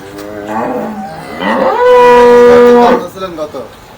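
A Holstein Friesian dairy cow on a dairy farm lets out a loud, close, drawn-out moo. It starts with softer groans and swells into a long tonal bellow before tapering off.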